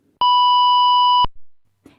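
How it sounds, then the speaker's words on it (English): A single steady electronic tone sounds for about a second, loud and clean, then cuts off sharply, used as the general alarm in an offshore platform safety induction. "This is the general alarm."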